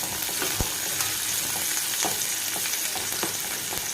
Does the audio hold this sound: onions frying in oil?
yes